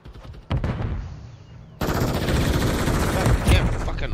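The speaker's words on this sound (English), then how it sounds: "I was just shooting aimlessly" Rapid automatic gunfire in a Modern Warfare 3 match on a small map, loud sustained bursts that start abruptly, pause briefly, then resume in a dense continuous stream.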